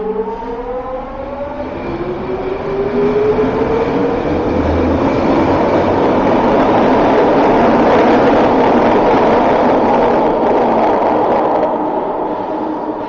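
Train at the Main Street station platform in Vancouver, a loud steady rumble with rising and falling tonal whine as it moves through, continuous and close.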